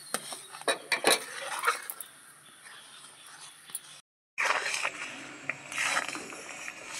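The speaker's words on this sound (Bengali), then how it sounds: "এভাবে অনবরত নাড়তে হবে, না হলে নিচে কিন্তু লেগে যাবে" Green mango pulp being stirred in a pan with a spatula while it cooks down, giving repeated scraping and clattering taps of utensil on metal, with a short break in the middle.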